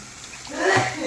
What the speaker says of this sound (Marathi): आता पाणी घालू आपण